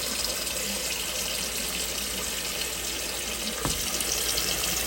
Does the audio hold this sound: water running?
yes